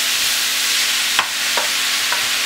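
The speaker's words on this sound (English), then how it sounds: "stir fry over a medium to high heat for about 5 minutes" Pork stir-fry sizzling steadily in a pan over medium-high heat, a continuous hiss with a few brief clicks and scrapes of stirring, no voices.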